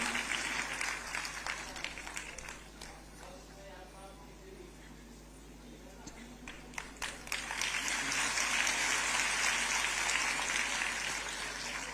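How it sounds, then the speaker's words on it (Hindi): A large audience at a government scheme launch claps in a rolling, uneven wave. It dips midway, then swells louder and fuller toward the end, with speech faintly mixed underneath. "आपकी तालियां संगीत का काम करती हैं।"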